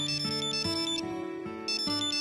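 A phone ringtone plays loud and close, a repeating electronic melody of bright tones that cycles several times with no voices over it.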